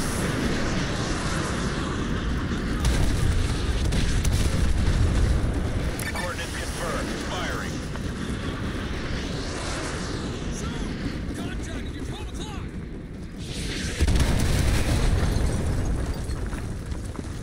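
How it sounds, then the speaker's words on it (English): Artillery strikes land in Modern Warfare 2 Remastered as heavy, rumbling explosions, with several booming impacts over a continuous roar of battle. Voices can be heard underneath. "Fire mission received. Artillery inbound."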